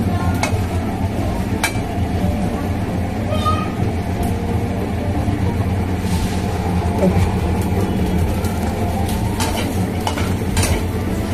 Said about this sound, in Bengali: ওকে ভেবে এরকম করে ভেজে ভেজে তুলে নিই